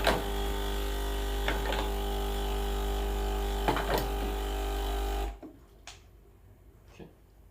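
A Breville Oracle BES980 espresso machine runs a rinse shot, a steady loud pump hum with a strong low drone and occasional clicks, stopping sharply after about five seconds into quiet room tone.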